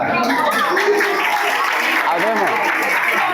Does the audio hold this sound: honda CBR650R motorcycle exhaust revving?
no